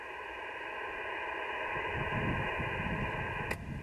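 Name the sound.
static rising on HF radio after antenna tuning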